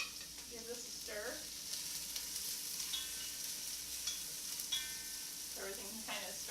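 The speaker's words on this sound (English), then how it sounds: "Give this a stir." Vegan mushroom soup ingredients sizzle in hot oil in a pot while a spoon scrapes and stirs in a few quick passes, close and soft over a steady frying hiss.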